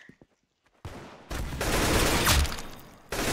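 Gunfire in a Roblox video game, a loud dense burst of rapid shots after a short quiet stretch with faint clicks, fading briefly before another blast at the end.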